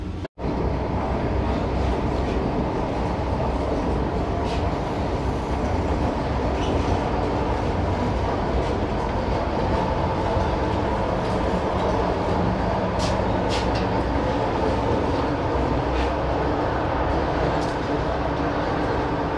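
A Vande Bharat Express train runs steadily with a constant low rumble and rhythmic rail clatter, occasional faint squeals, and a voice talking over it.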